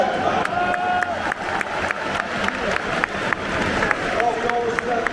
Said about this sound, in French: un maximum d'applaudissements pour les joueurs du Stade Brestois 29